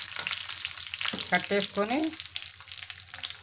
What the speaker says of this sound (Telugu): ఇదిగోండి కరివేపాకు, తాలింపులు కూడా వేగిపోయినాయండి.